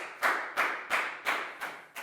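A few sharp, evenly spaced claps ring out in a Year 4 maths classroom as applause for a student named Pat, about six distinct hand claps close to the listener.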